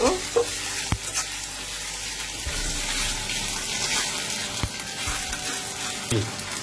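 Garlic and ginger fry in a pan while being stirred, making a continuous close sizzle broken by occasional scraping knocks of the spoon against the pan.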